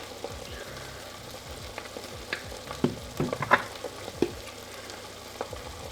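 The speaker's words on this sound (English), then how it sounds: "I'm just gonna do regular, like over easy eggs" Eggs cooking over easy in a pan give a low, steady sizzle, punctuated by several clinks and scrapes of a utensil against the pan, heard close up with no voices.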